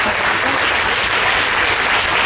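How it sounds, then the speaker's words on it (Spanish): An audience at the Tijuana book fair applauds loudly and continuously, a dense, even wash of clapping from many hands throughout. "Agradecemos con un fuerte aplauso la excelente participación de la maestra Valenzuela Arce"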